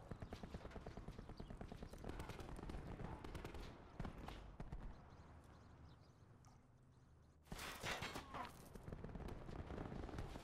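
A light machine gun fires in a first-person shooter video game, rapid bursts of close gunfire, with a quieter lull before another loud volley near the end.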